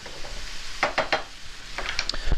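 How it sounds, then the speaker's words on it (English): Steady, bright sizzling of minced onions frying in bacon grease in a pan, with a few clinks of a utensil stirring against it. "So we got our onions that we minced up earlier going right in. You can already hear them sizzling."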